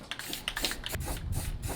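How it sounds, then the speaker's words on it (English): Rust preventative spray is shot into drilled holes in the body panels of a 1997 Miata, making a series of quiet, short hissing bursts close by. "I'm putting a little bit of rust preventative spray in these holes"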